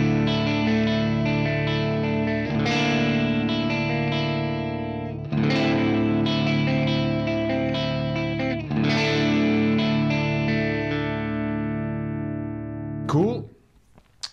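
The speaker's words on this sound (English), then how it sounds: "The clean sound, I used my Tokai Telecaster with a Seymour Duncan Antique series pickups" Clean electric guitar chords from a Tokai Telecaster with Seymour Duncan Antique pickups ring out through a Friedman JJ Jr 20-watt tube amp's clean channel, strummed in sustained phrases with a touch of shimmer, ending with a short string scrape.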